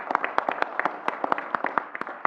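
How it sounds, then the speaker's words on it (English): Audience applause for a group of coaches at a wildlife commission meeting, steady close clapping with sharp individual claps throughout, no talk. "let's all give them a round of applause"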